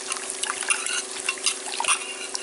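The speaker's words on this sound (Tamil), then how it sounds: "புளி கூட கொஞ்சமாக உப்பு சேர்த்து நல்லா கரைச்சிக்கலாம்." Tamarind being dissolved with a little salt in water by hand, a soft wet trickling and squishing that goes on steadily, fairly faint and close, with no voices.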